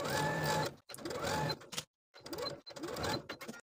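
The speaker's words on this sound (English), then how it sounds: "Now I'll take it to my sewing machine and sew close to the inner edge of that bias tape all the way around." A sewing machine stitches close to the inner edge of bias tape on a dress armhole in four quick, close bursts of rapid mechanical whirring, separated by short pauses.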